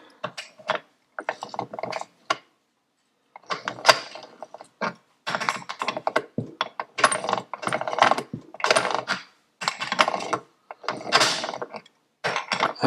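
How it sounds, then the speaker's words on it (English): A motorcycle kick starter is worked by hand through a Panhead transmission in neutral, giving close, dry ratcheting clicks and gear rattles in repeated bursts separated by short pauses. "Okay, it's in neutral. Let's make sure the kicker rotates."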